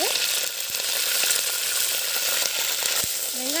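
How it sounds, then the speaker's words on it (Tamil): Curry leaves fry in hot oil for a goat intestine gravy, giving off a loud, continuous sizzle and crackle from close by with a few brief stirring clinks. "நம்ம கருவேப்பிலை போட்டு நல்லா பொரி வெஞ்சிருக்காங்க."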